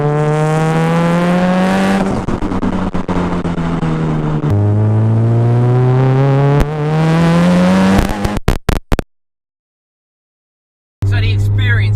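A 550bhp SR20DET-powered Nissan Silvia S15 revs loudly and close up through several rising pulls, with gearshift dips between them. The engine then cuts off abruptly into a few seconds of silence before the roar returns.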